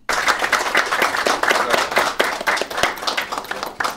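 Steady, lively applause at a city council awards ceremony as two women are presented with flowers, many hands clapping continuously and close, with no talk over it.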